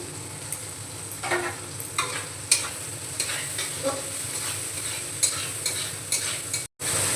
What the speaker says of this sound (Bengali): রসুনটা একটু নেড়ে নিয়ে দিয়ে দেব টমেটো কুচি টমেটো দিয়ে আমি নেড়ে নিচ্ছি